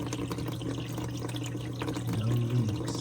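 A Frigidaire dishwasher fills with water, giving a steady rushing, splashing flow over a low hum that swells slightly toward the end.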